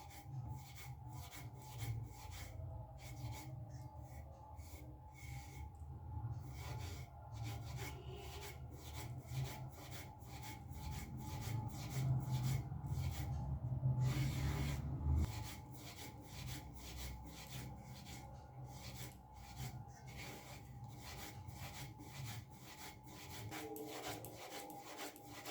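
Damp rice-flour dough for chushi pitha is rolled between two palms, giving a soft, rapid, rhythmic rubbing that repeats steadily throughout and grows slightly louder midway.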